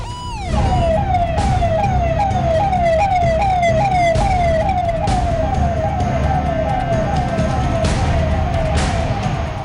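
A loud VIP car's red-beacon siren wails in rapid repeating sweeps, continuous and close, over a low engine rumble.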